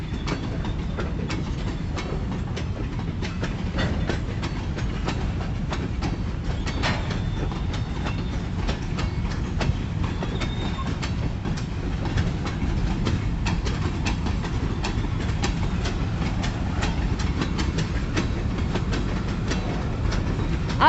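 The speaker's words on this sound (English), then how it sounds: "I figured this thing's a long train." Long Kiamichi Railroad freight train rolling past nearby, a steady rumble of wheels with rhythmic clicking over rail joints continuing throughout, alone without talk.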